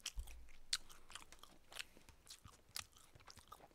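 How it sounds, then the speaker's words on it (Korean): Close, quiet chewing of a teriyaki chicken breast salad lunch box, with soft crunchy bites and wet mastication repeating irregularly, no talking. "근데 어쩔 수 없이 꼭꼭 씹어먹게 된다 이거는"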